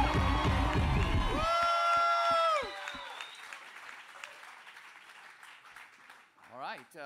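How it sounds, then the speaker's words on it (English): A comedy club crowd in Houston applauds and cheers for comedian Jake Walker, loud and dense at first with a few distinct claps fading out, followed by quieter crowd noise and a shout. "Put your fucking hands together right now for Jake Walker."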